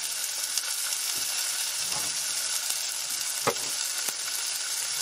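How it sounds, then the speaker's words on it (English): Garlic and onion sizzle steadily in hot oil in a pan, a dense continuous frying hiss with a few soft spatula stirs and scrapes, close and fairly loud, no talking. "that garlic, when it hits oil, you can really tell it a lot of times"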